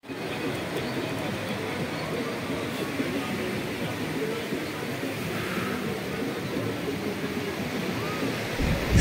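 Sea waves wash in steadily at Udaipur beach near Digha on a quiet evening, a continuous broadband roar of surf, loud and even throughout with no talk.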